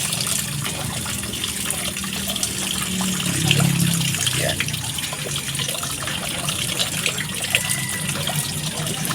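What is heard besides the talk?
washing harvested ginger in water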